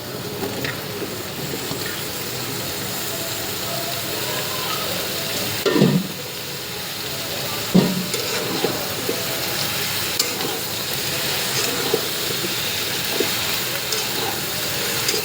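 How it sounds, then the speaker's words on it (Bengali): Eggplant frying and being stirred in a pan for a shing fish roe and eggplant stir-fry: a steady, even sizzle throughout, broken by a few soft scrapes of the spatula, close and continuous. "আমি বেগুন দিয়ে ভাজি করি, এমনিও ভাজি করি।"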